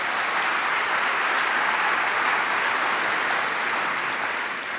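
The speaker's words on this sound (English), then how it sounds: "So a round of applause for Dave." Sustained, loud applause from a Workday Rising keynote crowd, a thick uniform roar of many clapping hands holding steady for several seconds before easing slightly at the end.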